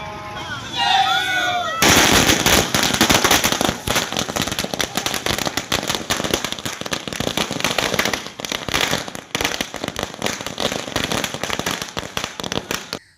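A long barrage of firecrackers bursts in rapid, crackling succession, loud and close, at a street celebration in Shrigonda, India, after a brief moment of voices at the start.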